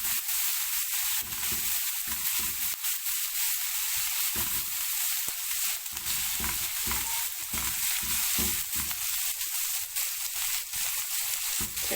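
Potatoes and vegetables with coriander sizzle and fry steadily in a pan, a continuous close hiss with occasional stirring scrapes and no talking.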